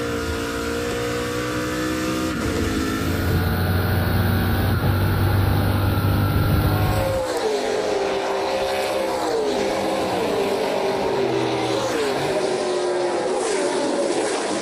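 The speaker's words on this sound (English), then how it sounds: "Cars still travel at a blistering pace down the back straightaway" NASCAR Pinty's Series stock cars race down the back straightaway at Canadian Tire Motorsport Park, engines howling loud and close, one car roaring past before others follow with rising and falling pitch as they shift and speed by.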